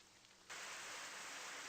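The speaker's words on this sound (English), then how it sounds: "Why is it raining indoors?" Indoor sprinklers in a video game abruptly switch on after a quiet half second, followed by steady, even rain-like hissing spray that continues without pause, with no talking.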